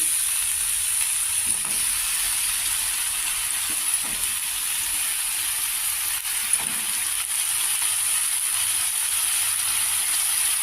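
Brinjal pieces frying in about three spoons of hot oil in a pan on a stove, a steady, even sizzling hiss that holds at a constant level with a few faint stirring knocks underneath.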